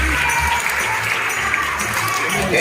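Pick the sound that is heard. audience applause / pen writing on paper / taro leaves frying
audience applause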